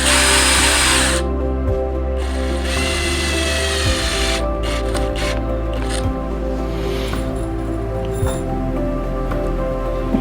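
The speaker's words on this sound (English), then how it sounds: "And I'm running my drill on low speed." A power drill whirs at a slow, steady speed with a low hum, briefly pausing and restarting, close by.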